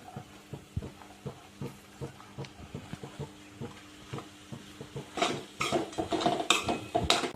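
Poha (flattened rice) with roasted peanuts being sautéed in a pan for kande pohe, a steady run of spoon scrapes and clinks against the metal pan, growing busier and louder toward the end with a faint sizzle underneath.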